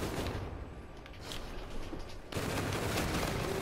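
Video game gunfire rattles in dense, continuous bursts, steady and fairly loud, swelling slightly heavier partway through with no voices over it.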